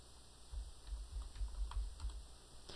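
Keys on a computer keyboard are typed in a short, quiet burst of soft, close clicks with an uneven rhythm over a faint background hum.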